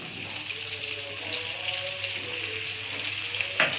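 Chopped onions sizzle in hot oil in a home kitchen while making paneer chilli, a steady hissing crackle at moderate level with a brief clatter near the end.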